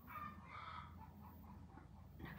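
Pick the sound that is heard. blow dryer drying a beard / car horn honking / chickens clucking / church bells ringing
chickens clucking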